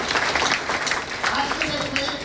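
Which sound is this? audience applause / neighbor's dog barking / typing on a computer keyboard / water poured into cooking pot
audience applause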